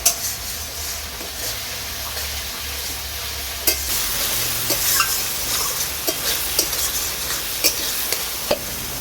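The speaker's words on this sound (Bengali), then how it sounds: "সব মশলাকে আমি ভালো করে কষিয়ে নেব" Ginger, garlic and green chilli paste sautéing in a pan for a catla fish kalia, a steady sizzle with repeated spatula scrapes and taps, close and alone without speech.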